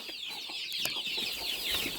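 Hens, among them Cochins, cluck and chirp in a backyard coop while being fed greens: a steady, close stream of soft, overlapping clucks and peeps running through the whole stretch.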